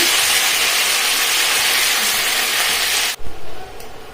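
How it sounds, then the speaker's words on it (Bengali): Cauliflower florets frying in hot oil for a koi fish and cauliflower dish, a steady loud sizzle and hiss that runs unbroken, then cuts off abruptly near the end, leaving a few soft stirring knocks. "কপিগুলো আমি একটু হালকা করে ভেজে নিচ্ছি"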